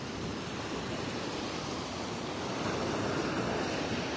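Ocean surf washing steadily onto a beach in North Naples, Florida, on a rainy early morning, a continuous broadband roar of breaking waves with no voices.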